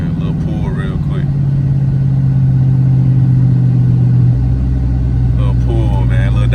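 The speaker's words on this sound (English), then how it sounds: "Little pull, man. Little downshift. Little downshift for y'all, boy." A 2012 Dodge Charger SRT8 pulls hard on the highway, its engine droning loudly and steadily before a downshift drops the pitch near the end, with someone talking over the engine throughout.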